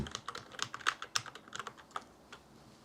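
Rapid, irregular keystrokes on a computer keyboard as a password is typed during an online account sign-up, close and fairly quiet, with no voices.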